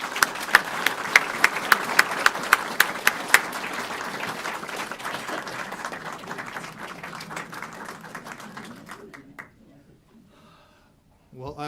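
Audience applause welcoming a lecture speaker to Northwestern for an evening talk, a full hall clapping steadily for about ten seconds with a few sharp claps standing out early, then fading out to near silence.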